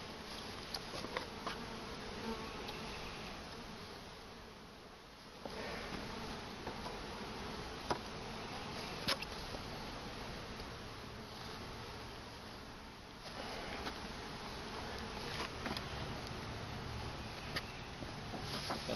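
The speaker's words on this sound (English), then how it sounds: "So I'm going to be scraping this off. Scraping off my burr comb." A dense, steady swarm of honeybees drones loudly and continuously at an apiary while burr comb is scraped off the hive, with faint scraping and tapping scattered under the constant buzzing.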